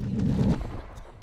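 HRM9 gunfire in a video game: after a muffled low rumble, a sudden loud burst of shots cuts in abruptly at the very end.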